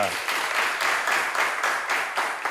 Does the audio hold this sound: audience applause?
yes